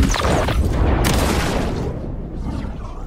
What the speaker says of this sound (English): Take a gander at this shotgun here